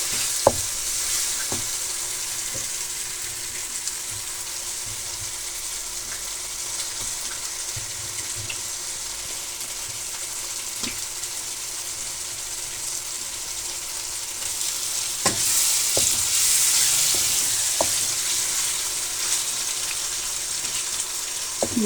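Chicken frying with spices in a pan for a mixed vegetable dish, a steady close sizzle with occasional stirring clicks and scrapes, briefly louder near the end.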